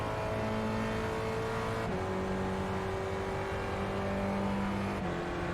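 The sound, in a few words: Spec Racer Ford engine revving and shifting gears, iRacing video game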